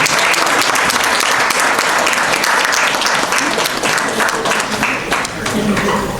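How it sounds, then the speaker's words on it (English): A loud, full room of people at a school retirement celebration in Barbados applauds steadily, a dense wash of clapping with some crowd murmur mixed in. "giving them a round of applause at this time"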